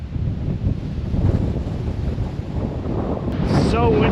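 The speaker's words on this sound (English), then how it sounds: "So windy up here." Strong wind buffets the microphone atop Spy Rock on the Appalachian Trail, a loud, close, continuous roar that gusts slightly stronger toward the end.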